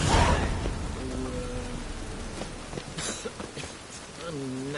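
Steady rainfall in a video game patters over a hushed background while a few voices speak briefly in the middle and toward the end.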